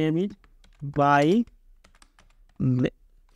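Code is typed on a computer keyboard as a scatter of light, close key clicks that fall between bursts of someone talking.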